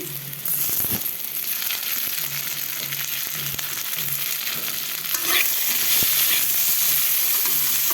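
Diced potatoes fry with chopped onion and tomato in a pan, a continuous close sizzle broken by a few stirring scrapes and a sharper burst of frying near the end.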